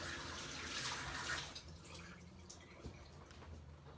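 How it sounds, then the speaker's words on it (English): Tap water runs steadily while hands are washed beneath it, a close splashing rush that eases into softer trickling and drips. "wash my hands real quick"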